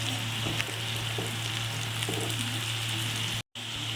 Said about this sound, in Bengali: এর মধ্যে আদা কুচিগুলো আর কাঁচা লঙ্কা কুচি এর মধ্যে দিয়ে দিলাম দিয়ে ভালো করে নাড়াচাড়া করে দিই